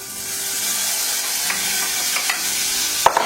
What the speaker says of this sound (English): put the oil in the pan, and then what you're going to do is add in the chopped rhubarb